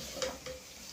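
Beef being stirred with curry powder in a cooking pot, a brief soft scrape and sizzle of frying, with two quick stirring strokes close by and no talk.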